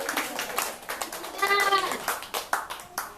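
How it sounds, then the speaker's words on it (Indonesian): Scattered clapping from a small crowd at a business launch event, uneven claps with a bird-like chirping sound mixed in partway and voices murmuring underneath. "Yuk tepuk tangan buat Ustaz Wildan."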